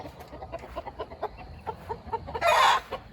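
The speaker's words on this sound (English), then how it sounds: "And we got our chicken flocks blended today." Hens from two blended flocks cluck in a steady run of short, close calls, ending in a louder drawn-out squawk from one bird.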